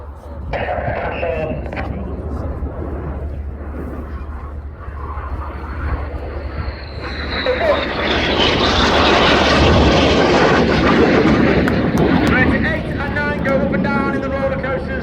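Red Arrows jets at the RIAT air display roar past in a loud, swelling rush that builds to a broad peak and lingers, with commentary talking over the engine noise.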